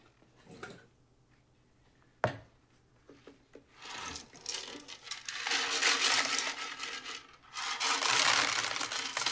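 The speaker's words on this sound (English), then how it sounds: "the copper inside the wire makes it just right, and it only takes a minute or two of swishing to wipe everything off of the surfaces inside" Copper wire swished around inside the hollow body of a fine violin to clean it gives a sharp knock, then long bursts of dense, rattling swishing that swell and fade, heard up close.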